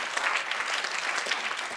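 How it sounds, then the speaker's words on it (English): An audience applauds, a dense, even patter of many hands heard fairly faintly, as if from a little distance, continuous throughout. "I think you deserve a big hand of applause"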